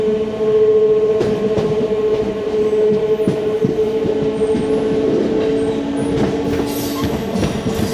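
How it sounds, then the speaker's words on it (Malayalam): A MEMU passenger train pulls into Feroke station in Kerala, its steady rumble and hum loud and close, with faint clicks of wheels over rail joints running through it. "അങ്ങനെ ഫറൂഖ് സ്റ്റേഷനിലേക്ക് പ്രവേശിക്കുന്നു"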